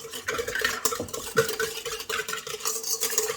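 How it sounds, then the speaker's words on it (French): Spoon stirring brioche dough of yeast, sugar, milk and oil in a bowl, a close continuous scraping and swishing with soft clinks, no voices. "Alors, on mélange comme ceci."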